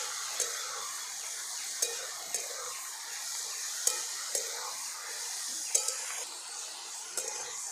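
Green lima bean pods sauté with salt in a pan, a steady close sizzle broken by regular spatula scrapes about once a second.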